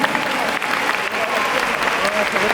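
Festival banquet crowd applauding at the Black Desert FESTA 2023 gathering in Calpheon, a dense, steady wash of many hands clapping throughout, loud and close, with excited voices mixed in.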